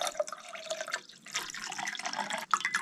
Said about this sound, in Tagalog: Lalagyan ko ng tubig to mga katoto.